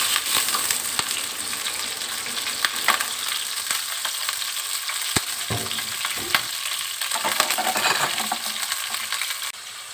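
Shallots and garlic sizzle and crackle in hot oil, a continuous hiss with occasional sharp pops and clinks of a utensil against the pan.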